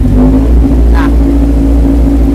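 A Kawasaki Z1000 motorcycle engine idles loud and close with a steady low rumble and a brief rise in revs midway, with no talk over it.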